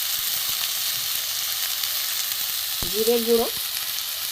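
Vegetable peels frying in a pan give a steady, close sizzle throughout, with a brief voice speaking over it near the end.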